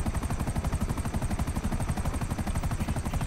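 Helicopter in GTA 5 roleplay, a steady rapid rotor chop with dense low thumping pulses and a bright whine, close and loud throughout with no talk.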